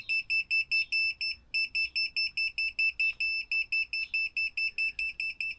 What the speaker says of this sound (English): If I knock it on, it's going to beep